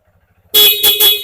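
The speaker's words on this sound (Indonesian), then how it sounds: "Klakson juga normal." A loud, nearby motorcycle horn sounds in a sustained blast with a couple of pulses, harsh and buzzy against the motorcycle's faint idling engine.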